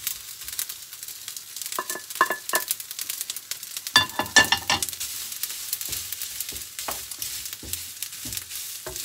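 Sausages frying in a pan with added konjac spaghetti, a continuous sizzle broken by scraping stirs and clicks from a utensil, close and fairly loud with no speech.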